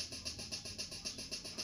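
Two hi-hat patterns layered on the Caustic 3 beatbox, producing a quick, even stream of crisp metallic ticks with regular accents, soft and alone with no talking.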